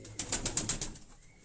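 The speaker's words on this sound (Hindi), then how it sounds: "कबूतर को छोड़ दें" A pigeon is released and takes off, giving a quick run of about six sharp wing flaps close by that fade within a second, with no talk over them.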